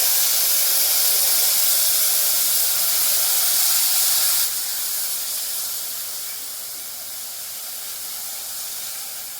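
Turmeric-coloured water poured into a hot wok, a loud close burst of hissing steam that holds strongly for a few seconds, then drops to a softer, steady simmering hiss.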